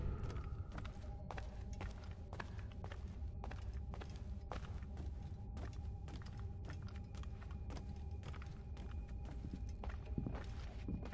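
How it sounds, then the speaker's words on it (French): Footsteps in the video game Assassin's Creed Rogue tread in a quick, steady series of faint, crisp impacts over a dense, continuous background bed, with no talking. "J'entends des bruits de pas là."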